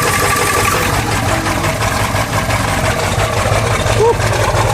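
A straight-piped 7.3L Powerstroke diesel in an OBS crew cab truck idles loud and rough right after a cold start, a constant heavy rumble close by with voices mixed in.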